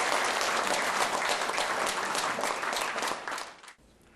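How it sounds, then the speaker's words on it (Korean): An audience at a 2009 inauguration ceremony bursts into loud, sustained applause that fills the space, then fades and stops abruptly near the end. "이럴 때 박수 한번 치셔야 되는 거 아닙니까?"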